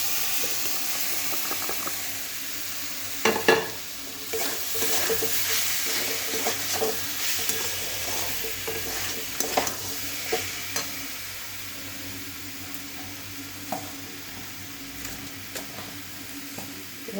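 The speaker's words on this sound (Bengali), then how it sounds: "এখন আমি ওই সয়াবিনগুলো, মাখা সয়াবিনগুলো এখানে দিয়ে দেবো, দিয়ে হালকা আর একটু ভেজে তারপর জল দেবো" Spiced soybeans fry in a pan for dahi soyabin kosha, a steady hiss and sizzle with occasional stirring clatters and scrapes, close and continuous without talk.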